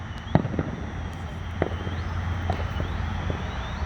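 Miracle canister firework shells burst outdoors, with a sharp loud report near the start and further fainter bangs and crackles over a steady low rumble.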